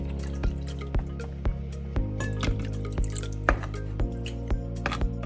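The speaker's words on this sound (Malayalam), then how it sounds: "മീനൊന്ന് നികന്ന് കിടക്കാൻ വേണ്ടി മാത്രം" Water poured over fish in a pan for a Kerala fish curry gives soft splashing drips and small clinks at irregular intervals, with a low steady hum underneath.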